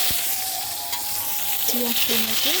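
Onion and tomato fry in oil with bay leaf, dried chilli and panch phoron, a loud dense sizzle with stirring scrapes close by, joined late by a faint tonal squeal.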